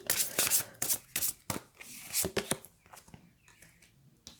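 Rapid riffling bursts of a deck of oracle cards being shuffled up close, several quick flurries in a row, with a voice speaking briefly between them.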